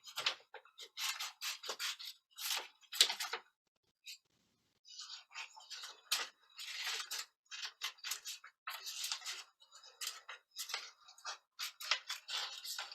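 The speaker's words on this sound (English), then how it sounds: "I'm just cutting. I'm going to cut like a circular head." Scissors snipping paper into a round head shape, a close series of crisp, irregular cuts in quick bursts with a short pause partway through.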